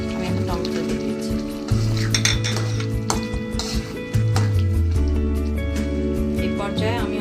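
Tomatoes and a green chili drop into a hot pan for Bengali pabda fish curry, setting off steady close frying sizzle with stirring clinks, under a sustained low hum from the kitchen.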